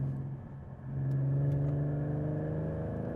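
A Ford Mustang with the 3.7 V6 and about 60,000 miles is being driven. Its engine drones steadily, then swells louder after the first second and holds a strong, close hum.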